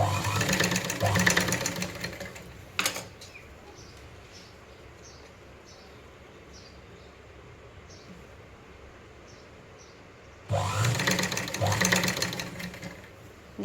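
A sewing machine stitching a blouse runs in two loud bursts at the start and end, with a quieter stretch of faint rhythmic ticking between them.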